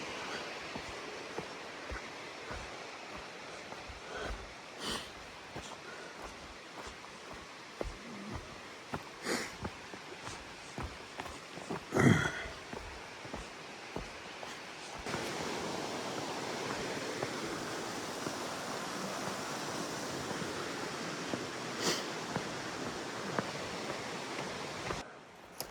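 A creek eroding its bank beside the Appalachian Trail gives a steady broadband rush of flowing water with no voices, growing fuller and louder in the second half, with a brief knock partway through.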